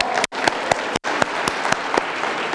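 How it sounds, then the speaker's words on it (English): A conference audience applauds in a steady, dense patter of many hands clapping together, loud and sustained for a few seconds with no voices over it. "Give yourselves a round of applause."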